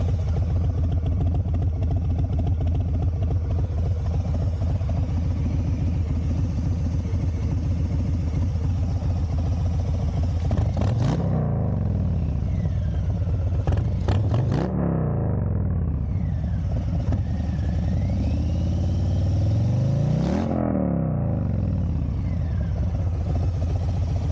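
A Harley-Davidson Softail M8 engine idles through a Bassani Ripper Road Rage 3 aftermarket exhaust with a deep, loping rumble, close to the mic. The throttle is blipped a few times, swelling briefly before settling back.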